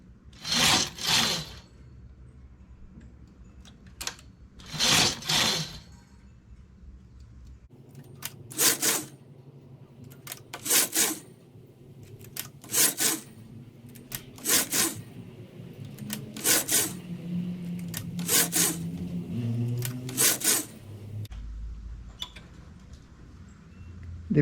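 A knitting machine carriage is pushed back and forth across the needle bed, making repeated loud rasping, sliding passes in a steady rhythm with quieter mechanical clatter between strokes and no talking.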